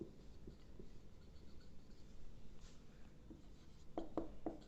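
Pen writing notes during a chemistry lesson on boric acid, a steady faint scratching and rubbing of pen on paper with a few sharper taps near the end, alone without talk.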